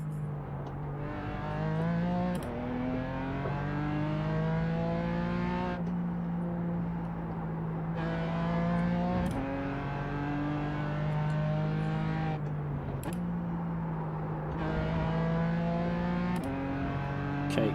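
Race cars roar through a video game race with a Porsche running in second place, engines droning loud and continuous with rising and falling pitch as gears shift every few seconds.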